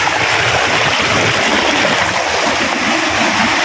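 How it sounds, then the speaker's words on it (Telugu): A monsoon-season waterfall in the Udayagiri hills of Nellore district pours over rocks with a loud, steady, broadband rush that continues unbroken throughout. "వచ్చేసిన చూడండి, కనపడుతుందిగా జలపాతం"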